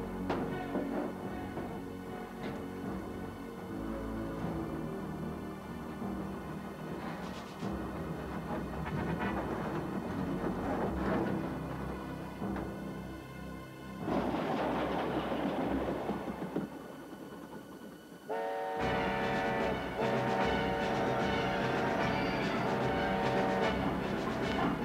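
A train approaching over a railway bridge in a tugboat story, a continuous loud rumble and clatter with a clickety-clack rhythm, swelling toward the end with a tonal horn-like whine.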